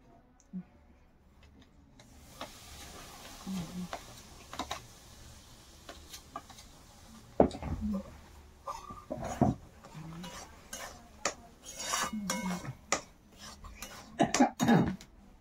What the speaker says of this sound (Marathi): ही रवा भाजायला लागलोय मी आता